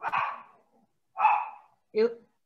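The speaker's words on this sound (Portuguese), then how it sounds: "meu cachorro dando latir agora" A pet dog barks three times nearby in short, separate barks with pauses between them. The sound is picked up over a meeting call.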